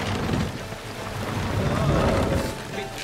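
Sailing ship under sail in a Viking-era video game, with a continuous rush of wind and water sloshing against the hull, fairly loud and close.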